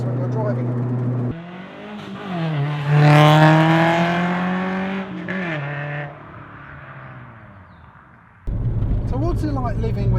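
Renault Clio 172 hatchback driven on country roads, its engine revving up through the gears with rising and falling pitch, a gear change gap mid-way, then strong acceleration again from close inside the cabin.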